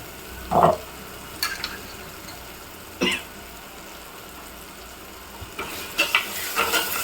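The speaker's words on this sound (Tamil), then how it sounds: "நல்லா மிக்ஸ் பண்ணி விட்டுங்க. நல்லா இது எண்ணெயில் பொரியணும்" Pepper masala stirred through hot oil in a pan, with soft scraping strokes, brief sizzling bursts and a clink of utensil against the vessel, spaced out over a low background hiss.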